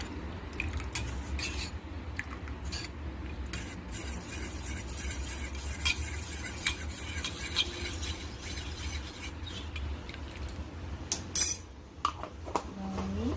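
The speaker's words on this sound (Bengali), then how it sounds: "কর্নফ্লোরটাকে এর ভেতরে গুলে রেখে দেব।" A utensil stirs and clinks against a bowl as cornflour is mixed into chicken for chilli chicken, a steady, quiet scraping with scattered light taps and one louder clink near the end.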